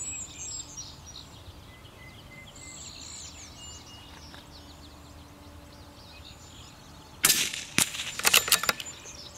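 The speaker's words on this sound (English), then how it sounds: "shooting a quarter size target at 75 yards is not easy" Shots from a CZ-455 .22 LR rifle fired outdoors at a 75-yard target: a few sharp, loud cracks in quick succession near the end, after a long stretch of quiet outdoor ambience with birds and insects.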